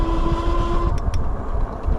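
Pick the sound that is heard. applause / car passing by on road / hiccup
car passing by on road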